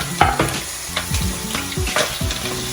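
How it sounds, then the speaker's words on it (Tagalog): Onion and garlic sauté in a hot pan for ginisang munggo, a steady close sizzle broken by several sharp scraping stirs of a utensil against the pan. "Lalagay na ang sibuyas bawang. Gisa-gisa. Ayan, igisa mo na siya."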